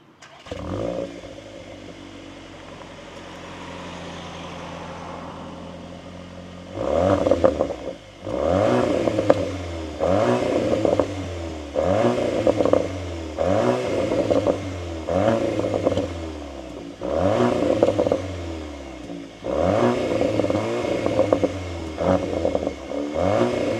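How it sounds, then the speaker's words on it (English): A 2024 Audi S3 with an Akrapovic exhaust is revved repeatedly after a low idle, each sharp blip rising and falling in a steady series of about ten loud, close bursts. "let's listen to those Akrapovic exhausts"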